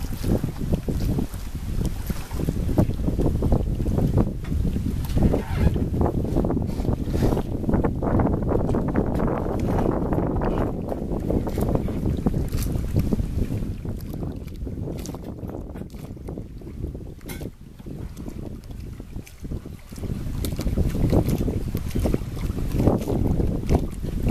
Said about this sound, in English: as we sail, drawing away from the Connecticut shore